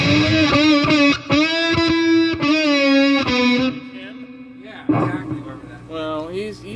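Harmonically rich sustained tones with a slightly gritty edge from a lightly distorted Les Paul Custom electric guitar, holding and shifting notes before fading into softer plucks.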